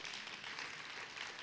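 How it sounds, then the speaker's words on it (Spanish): A church congregation applauds together during a sermon, soft, distant clapping as an even wash of sound with no voice over it. "¿Cuántos le dan un aplauso al Señor?"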